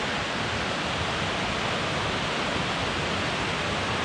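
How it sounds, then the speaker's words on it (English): Steady, dense roar of a waterfall on the Foothills Trail in the South Carolina–North Carolina mountains, broadband and unbroken throughout, heard up close without voices. "That's a impressive waterfall."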